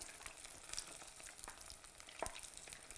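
Vegetable tempura frying steadily in hot oil, a continuous close crackling sizzle with small pops and bursts and a couple of sharper spatters, no voices.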